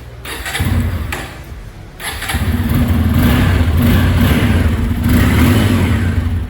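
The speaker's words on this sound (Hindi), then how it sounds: "तो जैसे साइड स्टैंड पे गाड़ी है, मैं एग्जॉस्ट नोट सुनवा देता हूँ।" A Bajaj Pulsar F250 motorcycle sits on its side stand, its exhaust starting and idling briefly, then revving up into a loud, sustained throaty drone close to the microphone.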